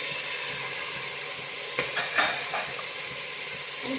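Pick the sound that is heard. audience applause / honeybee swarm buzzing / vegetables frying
vegetables frying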